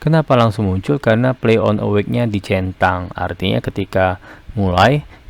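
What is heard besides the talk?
None of the usual background noises is heard.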